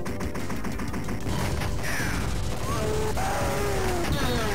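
Rapid gunfire and exploding missiles from the arcade game Total Carnage form a dense, continuous barrage of shots and blasts, with whistling electronic sweeps cutting through the steady loud din.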